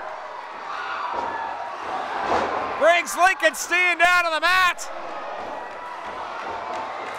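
A wrestling crowd at an independent pro wrestling event roars steadily behind a commentator, with a burst of whistles and cheering spikes in the middle as a wrestler is taken down to the mat.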